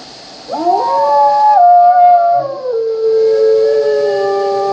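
A wolf howl from the video game WolfQuest, loud and close: one long rising then sliding tone lasting several seconds, with a second voice overlapping partway through, no talk.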